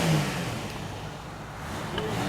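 A 1972 DAF 33 Combi with a basic two-cylinder engine and variomatic drive revs at a car show, a rough mid-pitched engine note rising and falling steadily without speech.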